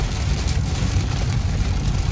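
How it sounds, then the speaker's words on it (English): Heavy rain drums steadily on a moving car, with a dense, loud wash and road rumble beneath it, heard from inside the vehicle with no talking. "I haven't driven the rain like this pretty much the whole summer."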